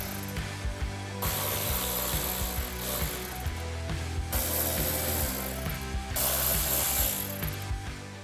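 A ratchet backs out the four 10mm bolts holding the engine cover on a C8 Corvette, clicking rapidly and continuously up close in short repeated strokes, with no voices.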